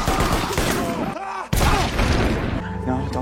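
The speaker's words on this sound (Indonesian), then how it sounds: "Namun tentara lainnya langsung menembaki Collie dan sebelum dieksekusi, Collie pun langsung bundir dengan senapan tersebut." Soldiers open fire in a film scene with a dense, loud barrage of gunshots. The shooting continues almost without pause, mixed with voices and other soundtrack sound.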